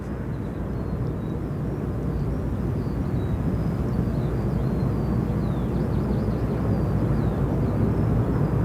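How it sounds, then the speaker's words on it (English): A TUI Boeing 737 rotates and climbs away at Gatwick Airport, its jet engines producing a loud, steady broadband roar that holds without a break, with faint bird chirps above it. "Looks like we've got a TUI 73 just rotating here. About to go overhead."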